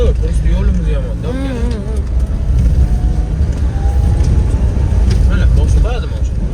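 A Daewoo Damas minivan driving at night on a rough, bad road, its engine and road rumble droning steadily beneath loud, continuous conversation from people inside the vehicle.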